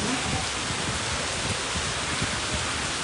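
Steady wind-blown downpour over Dwarka, a thick, unbroken roar of falling rain with low rumbling gusts underneath, loud and continuous from start to finish.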